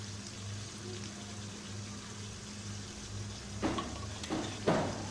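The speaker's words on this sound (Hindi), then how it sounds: "यह फ्राई हो रही है, इसको अच्छी तरह फ्राई करेंगे" Chicken liver karahi seasoned with soy sauce fries in a pan, giving a faint, steady sizzle over low background hum, with a few brief clatters near the end.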